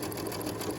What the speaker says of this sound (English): I've got that pin tuck right in the very leftmost tuck, and then I'm just stitching.